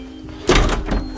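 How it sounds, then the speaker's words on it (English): Doors shut in a power outage at a pizza place, a single heavy thunk landing at once and fading into a low rumbling tail, fairly loud and close, with no talk over it. "Close the doors!"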